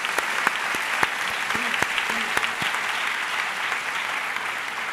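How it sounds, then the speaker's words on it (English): An audience at a school district convocation day applauds Roxborough Middle School, giving a moderate, fairly distant round of scattered claps with a few sharper hand claps standing out. "let's give a round of applause for Roxborough Middle School"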